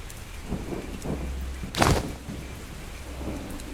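Steady rain pours outside a late-night laundromat in a horror video game, with one sharp, close thunderclap cracking midway through the dense hiss.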